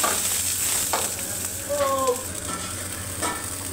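Vegetables with baby corn and mushrooms cook in a pan with a little water for pasta. They give off a steady, close sizzling hiss with faint bubbling and stirring throughout.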